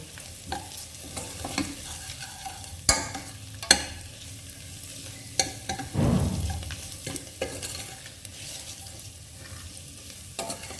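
Chilli powder and salt being stirred into a mixed dal tadka in a pan over low to medium flame, with a low bubbling sizzle and repeated spoon scrapes and clinks against the pan, close and moderately quiet, no talking.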